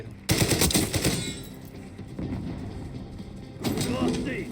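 Rapid automatic gunfire in the multiplayer shooter Call of Duty Black Ops 6, a loud sustained burst that starts abruptly, thins into a rattling mechanical clatter, then returns with another burst near the end.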